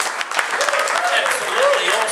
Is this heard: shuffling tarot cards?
no